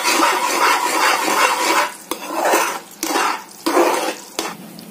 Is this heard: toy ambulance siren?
no